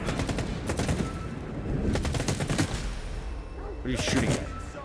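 Rapid bursts of automatic gunfire during a firefight in the S.T.A.L.K.E.R. 2 video game, set in the Chornobyl Exclusion Zone, rattling in repeated volleys with a short pause midway, loud and close.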